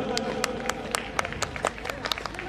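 An audience at a 2022 Holi Milan celebration claps, with sharp, fairly regular hand claps rising over a murmuring crowd and background hum.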